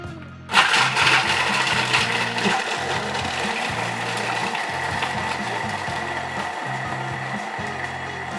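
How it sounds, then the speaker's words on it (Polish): A loud Thermomix TM7 food processor crushing ice starts abruptly and grinds and rattles continuously, crunching hard chunks with a harsh mechanical roar that stays steady throughout. "umieszczamy lód w naczyniu miksującym"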